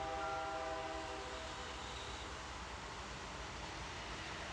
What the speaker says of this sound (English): a train was actually rolling through the wreck site